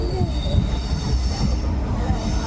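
Coimbatore Junction Intercity Express (16722) approaching Oddanchatram station, its wheels squealing loudly with high, sustained metallic tones over a heavy, continuous rumble close by.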